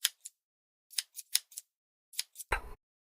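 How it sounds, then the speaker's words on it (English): Scissors make several sharp, crisp snips through plant stems in quick irregular succession, ending in a louder crunching cut, with silence between them. "That crisp, sharp snap as the blade cuts through the stem?"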